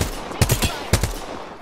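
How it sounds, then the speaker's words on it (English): Gunfire from an Apex Legends match: a couple of sharp, loud bursts of shots about half a second apart, each with a quick ragged decay, standing alone without talk. "Taking fire, brothers."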